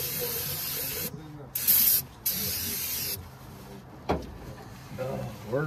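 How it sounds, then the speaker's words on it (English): Brake cleaner sprayed from an aerosol can on an old mud truck's big-block engine, several loud hissing bursts of differing lengths close by, with a voice talking between and around the sprays. "Let's first do a little brake cleaning."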